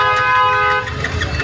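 A car horn sounds in short toots, with people talking and moving around under it.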